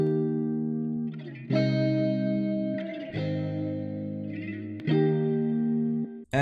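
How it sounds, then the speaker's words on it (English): A future bass synth plays sustained chords with reverb added, a bright layered tone that swells in three long phrases, each tail ringing out before the next chord hits. "Now let's put some reverb on it."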